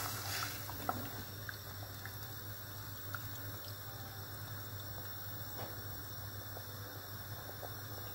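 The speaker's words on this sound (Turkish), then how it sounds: "Üzerine geçecek kadar su ilavesi yapalım." Water pours steadily over chickpeas in a pot, a soft continuous rushing splash that stays even for several seconds, fairly faint, with a low steady hum beneath.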